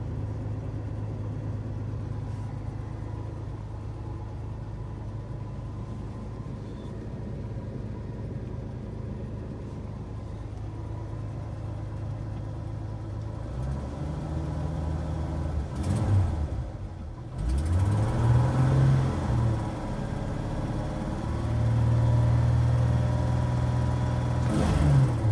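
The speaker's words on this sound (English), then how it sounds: "it sounds alright with the new exhaust" 1982 Ford F150 pickup with a 4.9-litre inline-six and a new exhaust, idling with a steady low rumble, then blipped into a few deeper revving swells that fall back toward idle.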